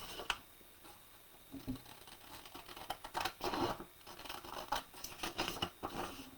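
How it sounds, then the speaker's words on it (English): Paper edges trimmed with scissors at an art-journaling table, a string of close, soft snipping and crisp scratchy cuts coming in short irregular bursts, quiet overall, with no talking. "I'm just going to cut"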